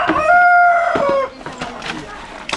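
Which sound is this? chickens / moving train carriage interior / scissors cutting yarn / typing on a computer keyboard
chickens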